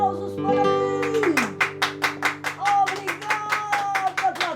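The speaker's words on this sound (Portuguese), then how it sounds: "Aplausos, aplausos para mim." Hands clap in a steady rhythm at a street puppet theatre performance, about a dozen sharp claps following a sung or spoken voice, fairly close.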